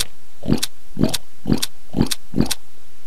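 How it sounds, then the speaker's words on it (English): A pig oinks five times in an even, rapid rhythm in a video game, loud and close, with nothing else around it. "Sounds like a pig."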